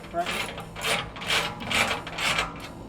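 A ratchet tightens the bolts on an engine skid plate for a Primitive Racing setup, giving a series of rhythmic rasping, clicking bursts about four or five times, close and moderately loud with no talk.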